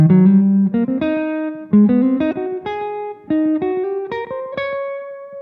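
An electric guitar plays a bluesy lick of plucked, ringing notes and quick bends, with short phrases climbing upward and a held final note.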